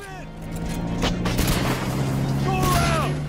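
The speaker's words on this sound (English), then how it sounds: "Shotguns again" Shotgun blasts from the video game Metal Gear Solid Peace Walker: a few sharp, loud bursts spaced across the clip over a continuous game soundtrack hum.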